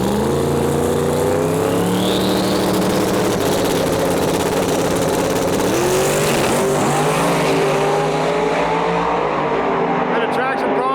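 A Chevy II drag car launches down a drag strip with traction problems, its engine roaring loud and sustained as it pulls away and the pitch climbs through the run, with a voice talking over it.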